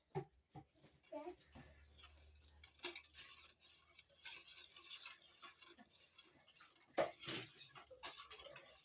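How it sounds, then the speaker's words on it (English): Eggs and milk being whisked in a bowl in a home kitchen, giving quick scraping and clinking strokes against the bowl, faint and uneven, with a child and an adult talking throughout. "Just whisk this. Whisk that."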